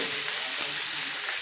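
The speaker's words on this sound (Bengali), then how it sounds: "আমি বেশি তেল দিয়ে একটু ভেজে নিচ্ছি ভালো করে" Fish head pieces fry in plenty of oil, giving a steady, close hiss and crackle with no voices.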